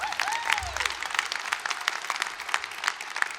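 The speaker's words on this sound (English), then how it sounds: "yeah, you can clap" Commencement audience at a 2019 winter university graduation breaking into dense, steady applause with crowd noise, filling the whole stretch at moderate loudness.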